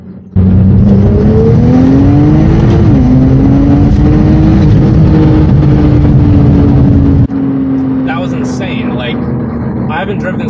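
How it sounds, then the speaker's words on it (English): A Porsche 911 Turbo engine accelerating hard, its rising tone shifting through gears, loud and close, then easing off as the roar settles toward the end. "Let me do a quick pull in the 911"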